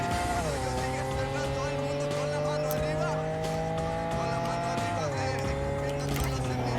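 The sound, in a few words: car driving in Cyberpunk 2077 video game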